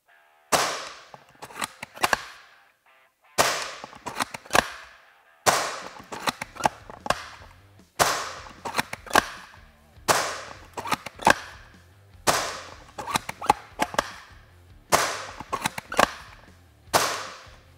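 Novritsch SSG10 A1 airsoft sniper rifle fires 0.2 g BBs, sharp loud snapping shots in a steady series of about eight separated by short pauses, each with a brief mechanical click-and-rattle after, no voices.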